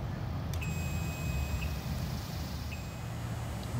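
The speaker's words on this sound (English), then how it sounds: "You have other ones, your warning buzzer." Warning buzzer on a 2006 Mercury Optimax 225HP outboard during a diagnostic system check: faint, thin high beeps sounding a few times in short bursts over a low rumbling background hum.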